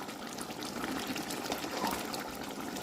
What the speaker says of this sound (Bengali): আর একটু ফুটবে, তারপর আমি নামিয়ে দেবো